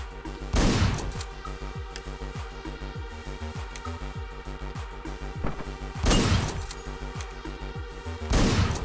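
Shotgun blasts in the top-down action game Hotline Miami, three heavy booming shots spaced seconds apart over a driving electronic music track with a steady thumping beat.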